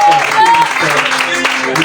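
A church congregation applauds and cheers in a short, loud, dense burst of clapping and voices that fills the whole moment.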